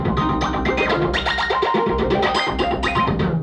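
A dense, continuous electronic sequence of bright, bell-like tones from an Arturia MicroFreak synthesizer repeating rapidly over a sustained low drone, loud and busy throughout.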